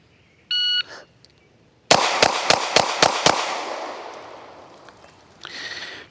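A CZ Shadow 2 pistol fired in a bill drill on a range: an electronic timer beep, then six sharp, evenly spaced shots in rapid succession, loud and close, their echo trailing off before another beep.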